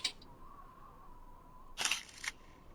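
In-game camera shutter clicks in Voices of the Void: one soft click at the start, then two sharp, close snaps with a brief whir near the end, over a quiet background hum.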